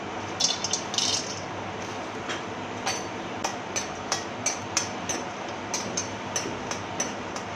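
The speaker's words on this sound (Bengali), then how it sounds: "প্রথমে আমি কিছু বড়ি ভেজে নেব।" Bori, small Bengali lentil dumplings, fry in a pan of hot oil, giving a steady sizzle broken by a run of sharp pops and spits that come every half second or so.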